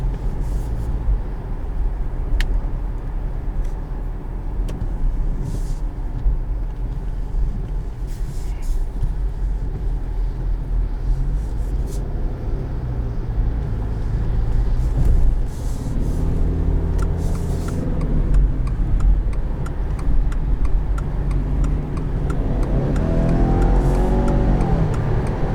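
A 2020 Subaru Outback XT turbocharged engine accelerates from inside the cabin, a steady loud drone with rising engine tones toward the end as the revs climb through gears.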